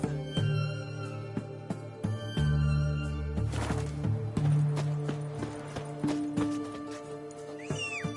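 A horse in The Witcher 3 gives a loud, close whinny while its hooves clip-clop in a quick rhythm and the pace picks up, all set against a soft musical backdrop.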